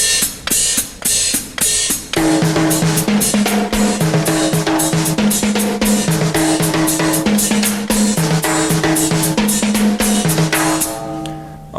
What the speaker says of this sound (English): All right, now let's incorporate a Latin timbale part over here,